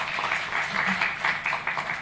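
An audience applauds at the inaugural panel of a disability abilympics conference, a steady wash of clapping that holds at an even level throughout with no speech over it.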